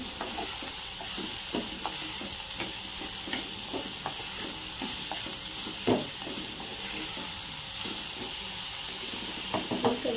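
Onions and salt sauté in a pan with a steady soft sizzle and hiss, broken by scattered scrapes and clicks of a stirring utensil, heard close with no talk.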